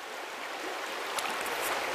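A trout river runs along its bank in a steady, close hiss of flowing water, broadband and continuous with small splashy surges and no voices.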